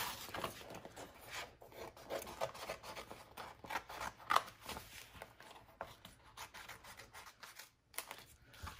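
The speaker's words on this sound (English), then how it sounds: "I'm just gonna cut the back here." Scissors snip through the paper backing of stickers while crafting a glitter hula-hoop purse, giving a run of close, quiet rubbing cuts with one sharper crunch midway and no talking.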